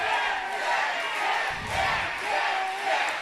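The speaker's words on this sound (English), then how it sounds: "Fans cheering for Little Papa Pump with that gold sequined jacket of Ryan North." A wrestling crowd at a Continental Championship Wrestling show cheers in a steady, moderately distant roar that swells and dips in waves.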